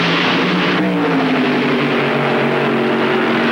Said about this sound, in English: The cars move into the staging area.